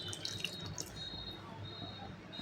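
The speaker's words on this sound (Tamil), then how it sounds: "இந்த மிக்ஸி கழுவின தண்ணியை போடுறேன்." Mixer rinse water is poured from the blender jar into a pan of curry leaf pepper chicken gravy, a short close splashing stream running steadily for a couple of seconds with no voices.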